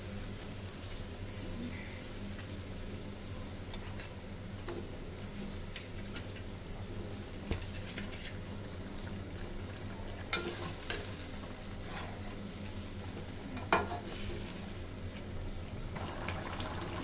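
Fish pieces go into a boiling curry gravy and a steady, close sizzling and bubbling follows, with occasional sharp clinks of a utensil against the pan over a continuous frying hiss.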